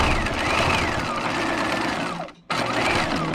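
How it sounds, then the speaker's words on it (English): A sewing machine runs continuously while stitching along the pleat line of a swing coat, with a steady whirring drone and a short pause near the end before it starts again, loud and close without talk. "So just stitch along that pleat line and back stitch on either end."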